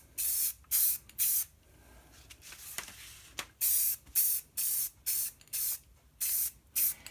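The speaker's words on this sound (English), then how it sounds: "Now the first thing I'm going to do is just spray paint it" Green spray paint hisses onto old PVC blinds in a rapid series of about a dozen short, sharp bursts from close by, with quiet pauses between them and no talking.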